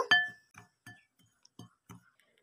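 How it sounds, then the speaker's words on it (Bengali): A spoon stirs dry ingredients for semolina balls in a bowl, sounding as a series of sharp, close clinks spaced irregularly with quiet gaps between them. "সব ড্রাই ইনগ্রিডিয়েন্টসগুলোকে চামচের সাহায্যে খুব ভালোভাবে মিশিয়ে নেব"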